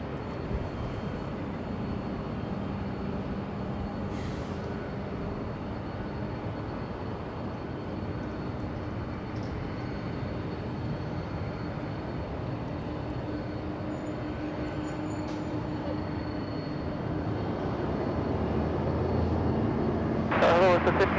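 A Delta 562 Heavy airliner at Los Angeles International Airport sits on runway 24 left as it is cleared for takeoff. A steady, distant engine drone runs throughout and swells toward the end, with radio chatter layered over it.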